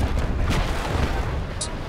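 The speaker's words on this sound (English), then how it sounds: "Return fire, Mr. Gunn." Heavy booming cannon fire from a sailing warship in the Naval Action game, a dense rumbling barrage with low thuds, loud and continuous over the short span.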